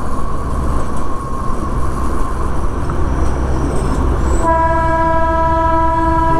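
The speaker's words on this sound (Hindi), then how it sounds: "ये अपनी हिमालयन टॉय ट्रेन पैरेलली जा रही है।" The Himalayan toy train rumbles past along the road near Siliguri with a loud, steady clatter, then gives a long, bright blast of its horn that carries through the final seconds.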